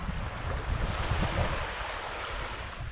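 Sea waves washing into a secret little cove in Cornwall, a steady broadband rush of surf with gusty wind buffeting the microphone, continuous and fairly close, no voices.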